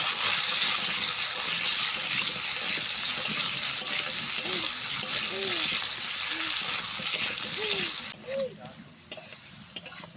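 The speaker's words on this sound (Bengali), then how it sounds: "একদম লাল লাল করে আলুটা ভাজবো।" Potatoes fry in hot oil with a little salt, giving a steady, bright sizzle and the scrape of stirring, while someone talks over the cooking in the middle of the clip.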